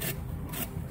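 Rough rasping scrape as a styrofoam tombstone edge is roughened by hand, two short bursts of gritty friction close by with no speech.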